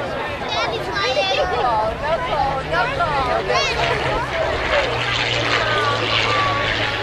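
A P-40 Warhawk propeller warplane with a liquid-cooled engine drones overhead at an air show, a steady rumbling roar, while people talk loudly over it.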